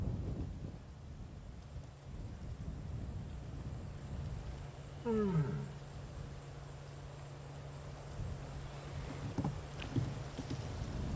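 A lioness gives a series of rising, moaning calls in the bush, a brief clear sequence standing out against steady wind and background rumble.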